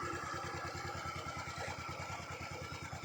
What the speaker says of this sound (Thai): เดี๋ยวจี้เครื่องให้ฟัง เครื่องดังไหม เงียบกริบนะครับไม่มีเสียงอะไรทั้งนั้นนะครับ